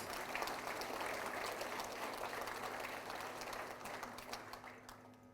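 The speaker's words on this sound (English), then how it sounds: "Can we have a round of applause for our new clients?" Applause from an audience at a Fiji business rebranding function with the Prime Minister present, a steady broadband clatter of many hands that holds for several seconds before tapering off at the end.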